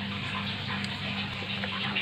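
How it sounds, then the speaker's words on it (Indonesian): Hot water is poured over sago while making kapurung, a Palopo dish, producing a close, continuous splashing gush at steady volume for about two seconds with no voices over it. "Kita siram dengan air panas."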